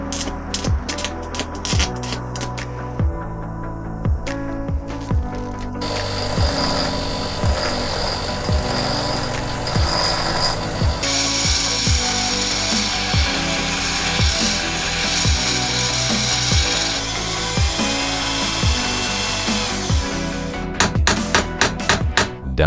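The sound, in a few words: grinding off drill press spindle ratchet teeth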